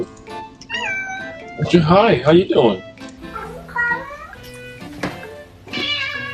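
A little kitten gives a short, clear meow and a few softer mewing calls close by, mixed in with a person talking to it in a friendly voice.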